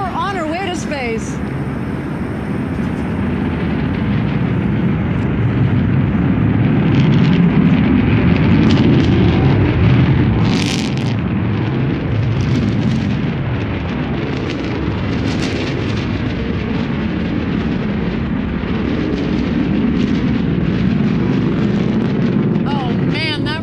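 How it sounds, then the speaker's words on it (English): Rocket launch engine roar from a vehicle climbing out of a valley toward space, a loud, continuous broadband rumble that swells and holds for over twenty seconds, with faint voices briefly audible at the start and end. "that roar gets me every single time as she exits the valley on the way up to space"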